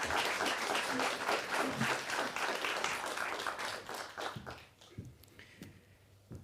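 Applause for a speaker at a live event rolls through the audience, dense clapping that thins to a few scattered claps toward the end.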